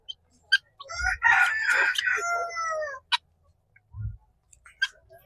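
Desi free-range chickens on a farm: a rooster lets out one long, close crow, and hens add a few short, scattered clucks and peeps before and after it in an otherwise quiet yard.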